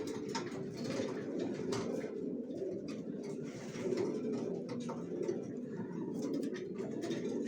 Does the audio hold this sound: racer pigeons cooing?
yes